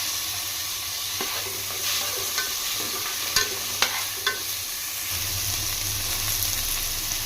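Onions and tomatoes fry in a pan for a bendakaya egg pulusu, giving a steady close sizzle with a few sharp spatula knocks and scrapes against the metal, no one speaking.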